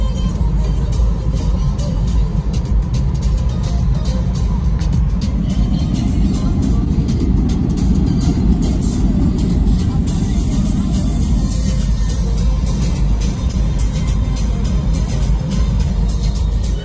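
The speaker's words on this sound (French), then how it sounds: "On est dans la voiture. C'est parti." A steady low rumble of road and engine noise inside a moving car, continuous and fairly loud throughout.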